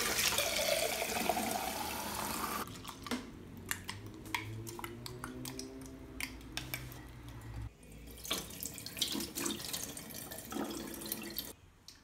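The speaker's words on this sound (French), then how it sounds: "je vais bien les rincer 2 fois, faire écouler l'eau par les petits trous là" Sprouting seeds are rinsed in a jar under running tap water, with a rushing pour at first. Sloshing and gurgling follow as the water drains through the small holes in the lid, along with dripping and a few glassy clinks.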